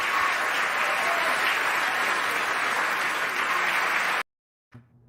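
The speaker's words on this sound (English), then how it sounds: "I love all the drops, the applauses." An applause sound effect drops into a podcast, a dense, steady burst of crowd clapping lasting about four seconds before cutting off abruptly, followed by a faint thump.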